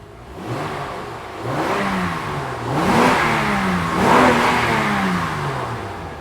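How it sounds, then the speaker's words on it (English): An Acura MDX engine, repaired for a cylinder misfire and low power, revs up in a shop in three or four rising and falling pulls, loud and close, with a steady idle underneath. "Let me rev it up a little bit."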